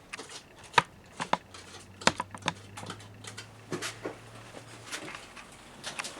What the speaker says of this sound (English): I'm going to score the bottom after I've cut this shape so it fits the pot